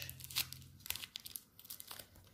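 Adhesive tape pulled off and torn while assembling a homemade face mask, heard as a few short, close, crinkly tearing bursts with no talking.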